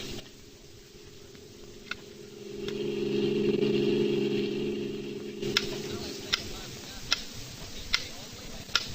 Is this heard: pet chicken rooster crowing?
no